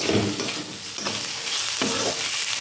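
Cumin and coriander powder are stirred into an eggplant and puti fish curry in a hot pan, a close, continuous sizzle with soft scraping strokes of the spoon, no voices.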